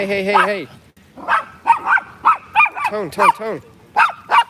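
A dog on a walk barks repeatedly in a series of short, sharp yelps and bow-wows at an irregular rhythm, fairly close, after a brief whine at the start.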